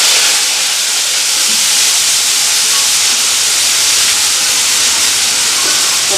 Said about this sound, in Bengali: এদিকে আমার তেল গরম হয়ে গেছে, এখন বাঁধাকপি পেঁয়াজটা ভেজে নিই।